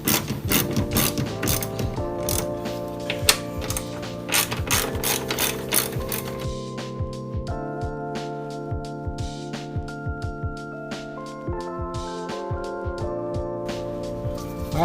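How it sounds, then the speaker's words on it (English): A ratchet loosens 10mm bolts during radiator and fan assembly replacement on a 2008 Kia Sportage. It gives a rapid, continuous metallic clicking that slows to spaced clicks partway through, close up and with no talking. "There should be 2 10mm bolts that you gotta get loose."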